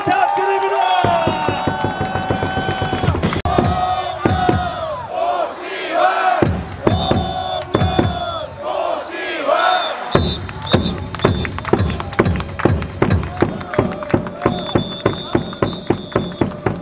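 Baseball stadium crowd at a KT Wiz home game, loud and dense, with chanting, whistles and a rhythmic run of thumping claps building toward the end, a cheerleading announcer's voice mixed in.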